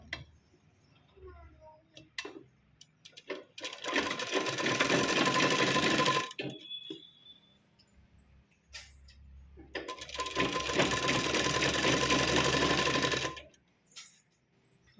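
A sewing machine stitches a blouse waistband, joining it on the right side and folding it over with a 1.5-inch stitch. It runs in two long, steady bursts separated by a pause, with light ticking and handling sounds in between.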